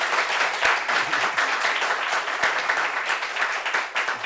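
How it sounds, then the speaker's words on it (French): Sustained audience applause at a community gathering, dense steady clapping from a crowd throughout with no pauses, fairly loud and even. "Est-ce qu'on peut applaudir merci"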